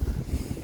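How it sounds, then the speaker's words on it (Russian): Strong, cold wind gusts outdoors, buffeting the microphone with a low, rumbling roar over a brief moment, with no voices. "Но еще и ветер сильный."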